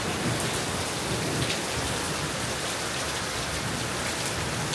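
Steady, dense rain pours onto a sheltered sitting area, an even hiss of drops on surfaces filling every moment at moderate loudness, with no talking.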